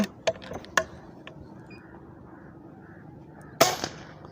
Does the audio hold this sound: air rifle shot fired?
yes